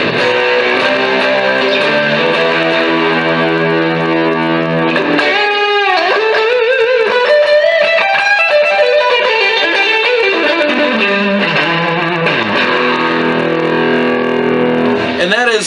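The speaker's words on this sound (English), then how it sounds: "Put a little bit of reverb on there and you get something like" Electric guitar played through an Orange Crush amp with reverb added, sustained distorted chords and bending lead notes ringing steadily and loud throughout, with no talking over it.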